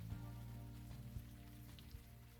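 Rain falls steadily in a scene from the video game Unavowed, a quiet, even patter with a few scattered louder drops and a low hum beneath, with no voices.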